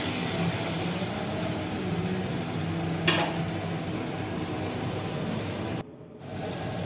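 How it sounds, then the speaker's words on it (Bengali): Spices fry in a pan for jackfruit curry with a constant hissing sizzle, a sharp scrape partway through and a sudden brief drop in the noise near the end, with no talking. "মশলাগুলো বেশ ভাজা ভাজা হয়ে আসছে।"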